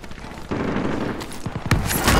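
Bursts of video game gunfire crackle in quick volleys, loud and close, with a brief voice near the end.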